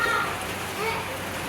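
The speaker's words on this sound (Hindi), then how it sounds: "इतनी तेज़ बारिश" Heavy winter storm rain pouring steadily, a dense continuous hiss of drops on surfaces close by, with faint voices in the background.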